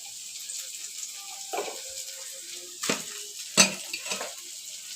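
Hot oil sizzles in a pan as the base for a small fish curry (chorchori), a steady bright hiss with a few louder utensil clinks and scrapes, no talking.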